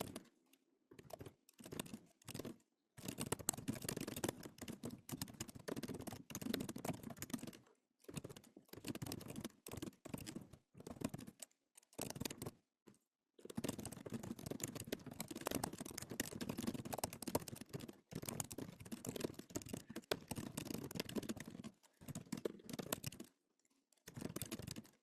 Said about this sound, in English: I apologize for the typing sounds